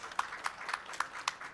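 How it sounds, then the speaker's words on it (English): Light, scattered clapping from a small group at a conference session in a hall, soft and brief, with the claps coming in a loose, uneven rhythm. "he deserves a round of applause."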